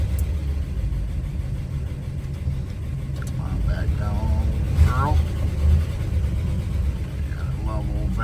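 A 1956 Oldsmobile Eighty-Eight with its engine running, a steady low idle rumble throughout while a person speaks briefly over it.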